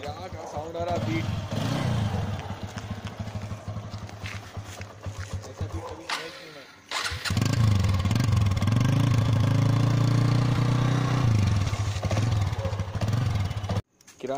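A motorcycle engine idles and revs through its exhaust silencer with a steady, throbbing beat, loud and close, with a voice talking over it at times.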